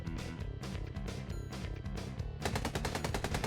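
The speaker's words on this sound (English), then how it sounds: "Gunfire erupts from behind SCP-682." Gunfire in the video game SCP: Doki Doki Anomaly: dense rapid bursts of shots over a loud musical backdrop, sharpening into a fast rattling volley in the final second, with no talking.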